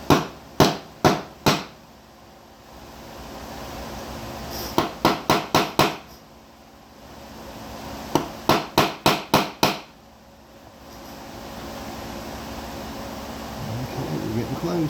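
Hammer strikes on a steel punch during a Honda CT70 front fork rebuild, in three loud bursts of sharp, evenly spaced whacks, four or five per burst, over a steady fan-like background hum.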